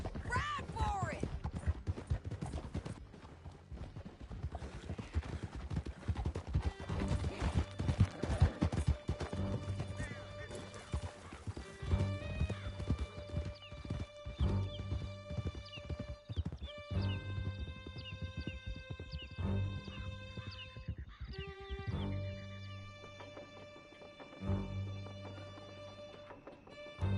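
Galloping horse hooves clip-clop rhythmically during a canyon chase in the video game Red Dead Redemption 2, mixed with whinnies, dramatic music and shouted dialogue.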